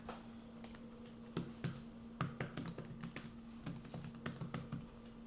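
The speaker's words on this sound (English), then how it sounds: "I've got my username and my password here. Okay. So I'm going to type this in." Fingers type a username on a computer keyboard, a quiet scatter of uneven key clicks and taps in short bursts over a steady low hum, with no talking.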